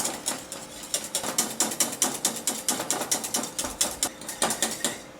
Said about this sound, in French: à ce stade-là, nous allons maintenant fouetter